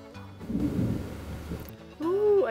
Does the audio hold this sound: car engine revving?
no